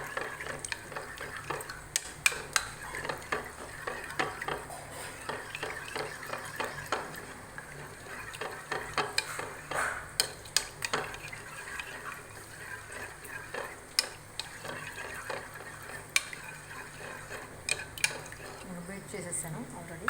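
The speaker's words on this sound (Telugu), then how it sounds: "ఇలా బీట్ చేసేసుకోవాలి" A creamy mixture is beaten by hand in a bowl, giving rapid, uneven clicks and scrapes of a utensil against the vessel at close range, with a voice speaking at times underneath.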